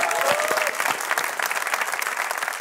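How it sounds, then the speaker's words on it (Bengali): An audience applauds at a live show, a dense and steady clapping from a crowd that carries through the whole moment at close range. "সবাই জোরে একটা তালি দাও for Apu."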